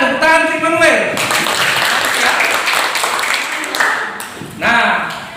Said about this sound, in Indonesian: tepuk tangan untuk Immanuel